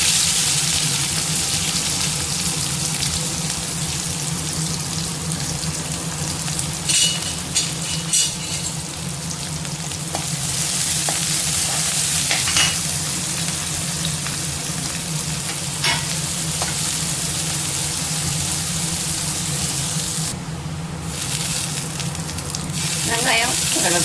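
Chopped onion and garlic fry in hot oil with mustard seeds, giving a steady close sizzle with occasional stirring scrapes and a brief burst of running water partway through.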